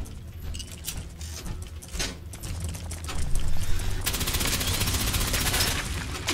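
Rapid automatic gunfire in Fallout 76, aimed at a mire lurk, rattles in dense bursts over game ambience and grows louder and denser through the second half, with no talk.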